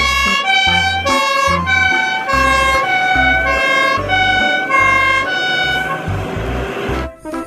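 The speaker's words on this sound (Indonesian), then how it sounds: "Di sini ada mobil pemadam kebakaran." A toy fire truck siren plays loud and continuous, cycling through repeating electronic tones with a pulsing low beat underneath, then breaks off abruptly near the end.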